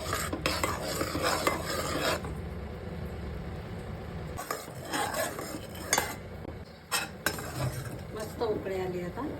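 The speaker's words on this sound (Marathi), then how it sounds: "बाकीचं तूप करणार आहे बघा मंडळी गॅसवर ठेवले मी तळायला सुरुवात झाली" Butter cooking down into ghee in a heavy-bottomed pot over a gas flame, with a faint sizzle beneath frequent close spoon scrapes and metallic clinks against the pot.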